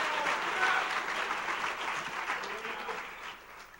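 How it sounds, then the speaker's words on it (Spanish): A church congregation applauds in praise at an evening service: dense, sustained clapping from many hands fills the room at steady strength, then thins and fades slightly toward the end. "Fuerte ese aplauso."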